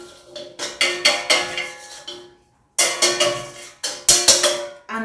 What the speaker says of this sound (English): You want to give that a quick stir